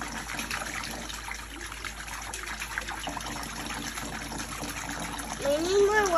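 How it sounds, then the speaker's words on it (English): Water is poured into a toy bath for dolls, a steady splashing trickle that runs close and moderately loud, with voices talking and a squeaky sound near the end. "We need more water and bubbles in there."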